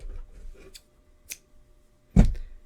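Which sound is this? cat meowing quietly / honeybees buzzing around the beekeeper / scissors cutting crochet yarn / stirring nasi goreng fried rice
scissors cutting crochet yarn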